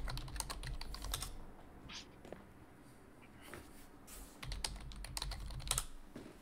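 Rapid typing on a computer keyboard clatters steadily throughout, with dense bursts of keystrokes and brief lulls, close and moderately loud over a faint background hum.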